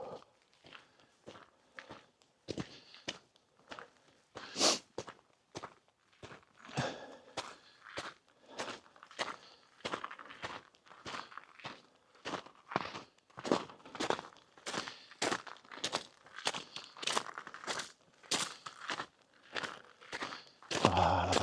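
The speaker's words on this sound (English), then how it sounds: "Crunchy snow underfoot." Footsteps crunch through crisp snow on a winter nature walk, a long steady series of close, sharp crunches at a walking pace, growing slightly louder and quicker toward the end.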